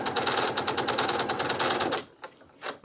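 A sewing machine in a live sew-along runs steadily with a fast rhythmic clatter and a slight loose rattle, then stops abruptly after about two seconds, leaving a couple of faint clicks.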